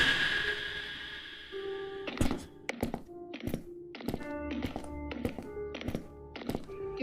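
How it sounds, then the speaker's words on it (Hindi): Odd, uneven footsteps in a Roblox horror scene outside a library: a series of hollow thunks and taps spaced irregularly, some doubled, heard alone over a faint hum after a brief tonal lead-in. "किसी के बहुत अजीब तरीके से चलने की आवाज़ें आई।"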